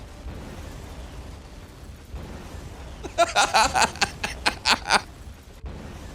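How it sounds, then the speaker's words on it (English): Explosion sound effect heard as a quick cluster of about seven sharp crackling bursts over a couple of seconds, moderately loud above a low background hum. "I love that he purchased one explosion sound"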